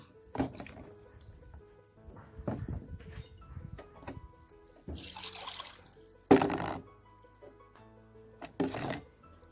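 Water splashing while sausages are washed in a kitchen before cutting, irregular bursts of running and sloshing water with clunks and handling noises between them, close and moderately loud.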